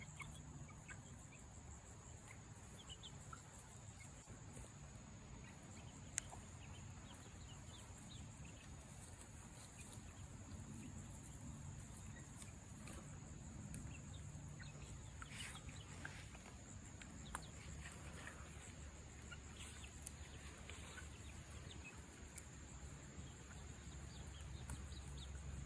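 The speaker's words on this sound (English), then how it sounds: "So here is Andromeda in her chicken run with all her chicken buddies." A flock of chickens in a chicken run gives faint, distant clucks against a steady outdoor background with insect chirring. The scene is quiet throughout, with no one talking.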